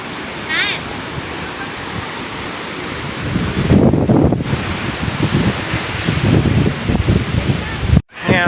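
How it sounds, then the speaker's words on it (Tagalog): Strong ocean waves at Tinago Beach surge and crash close by, with wind buffeting the microphone; the roar swells louder midway and stays rough until a sudden cutoff. "Ang lakas ng alon."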